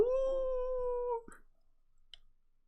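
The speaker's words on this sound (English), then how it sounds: "The white dog howled with all its might, sound reverberating far throughout the city." A white dog in the game Fate/Grand Order gives one loud, sustained howl with a steady wavering pitch that cuts off abruptly, leaving a few faint clicks and near silence.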